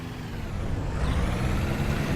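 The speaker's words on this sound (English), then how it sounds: "The train is rolling in." A train rolls into a station in the Transport Fever game, a steady broad rumble and hiss of wheels and machinery that swells slightly, continuous and fairly close, with no talk.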